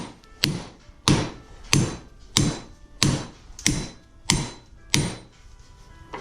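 Eight sharp metallic hammer blows on a 2004 Honda Accord lower ball joint and spindle, struck at an even pace about every two-thirds of a second, close and ringing, with no talking.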